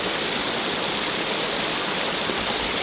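Clear, cold Cranberry Creek cascades off a hillside in a steady, close, broadband rush of water, with no voices.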